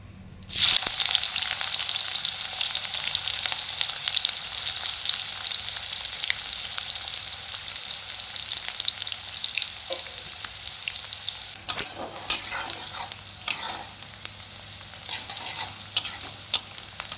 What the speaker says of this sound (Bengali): তেলটা গরম হয়ে গেছে, আমি পেঁয়াজগুলো তেলের মধ্যে দিয়ে দিলাম।